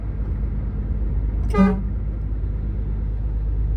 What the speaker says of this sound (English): Just give him a little toot.